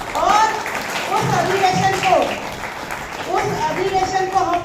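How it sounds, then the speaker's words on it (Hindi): Audience applause at a Bahujan Mukti Party political meeting, a steady wash of clapping running the whole time under a loud amplified voice speaking over it. "इसके लिए आप लोग जोर से तालियां बजाइए"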